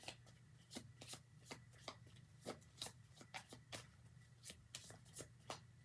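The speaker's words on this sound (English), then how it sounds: "I'm going to do a shuffle" Tarot cards are shuffled in a quiet room, a string of soft, crisp riffling bursts at an uneven rhythm, close and faint, with no talk.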